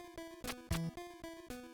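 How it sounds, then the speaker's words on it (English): Faint, spooky chiptune music from the Ninja Gaiden video game plays as a quiet, steady loop of pulsing tones. "Spooky music."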